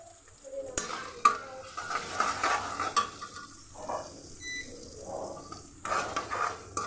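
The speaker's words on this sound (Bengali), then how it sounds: "পেঁয়াজ আর কাঁচামরিচ ফালি ভালোভাবে একটু কষিয়ে নিব" Sliced onion and green chili stir-fried in a pan, a soft, low sizzle under intermittent scraping and clinks of a spatula against metal, fairly quiet and close, without speech.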